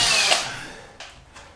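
A small drill bit winds into a hardwood silky oak window frame, a close high whirring bite that fades, then two brief lighter spins.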